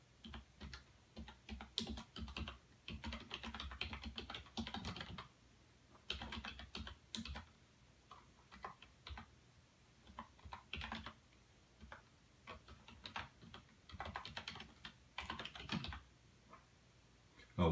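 A URL is typed on a computer keyboard in quick bursts of close, crisp key clicks separated by brief pauses.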